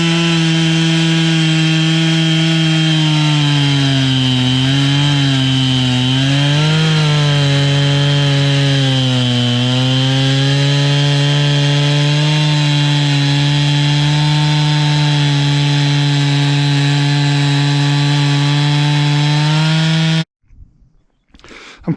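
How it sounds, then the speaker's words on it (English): A chainsaw mill cuts wooden boards about three-quarters of an inch thick in one long, loud, steady run that lasts nearly twenty seconds with slight shifts in pitch, then stops abruptly, leaving brief quiet clatter. "I'm cutting these boards about 3/4 of an inch, just a little bit less, just because I don't want to try to do 1/2 inch with the chainsaw mill."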